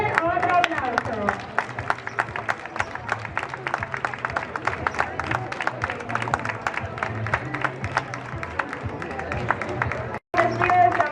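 Audience applause at an outdoor children's fashion show in Nueva de Llanes: steady dense clapping from a crowd, fairly close, running continuously with a brief cut near the end, with music or voices faint underneath.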